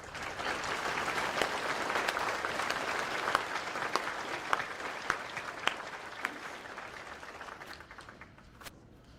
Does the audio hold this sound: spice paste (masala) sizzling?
no